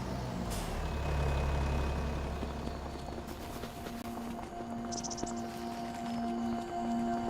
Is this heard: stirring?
no